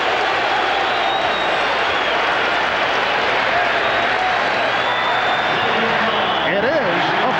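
Arena crowd at the 1996 NBA Finals game between the Chicago Bulls and Seattle SuperSonics, a dense, steady roar of noise and applause throughout, with a commentator's voice rising over it near the end.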